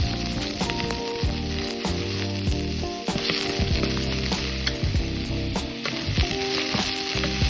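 Green bell pepper fries in oil in a kadai while paneer is being made, giving a loud, continuous close-up sizzle broken by stirring scrapes and clatters, with no one talking.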